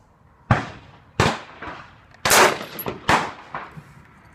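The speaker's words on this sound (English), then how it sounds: "Let's see a little bit of fast shooting" An AR rifle fires a quick string of about six sharp, loud shots at a 100-yard outdoor range. The shots come roughly every half second to second, each with a short echoing tail, and no one talks.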